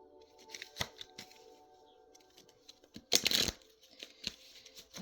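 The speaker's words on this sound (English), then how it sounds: "We're going to pull some oracle cards, more cards here" Oracle cards being pulled and shuffled, with sparse light taps and slides followed by one loud burst of riffling around the middle, then scattered soft handling sounds, close and with no talking.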